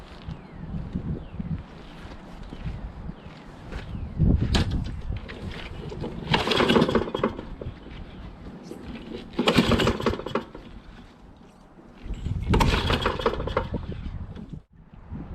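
A Kohler XT675 lawn mower engine cranks repeatedly on its recoil starter without catching, giving several loud surging bursts of whirring and rattling separated by quieter pauses, close to the microphone.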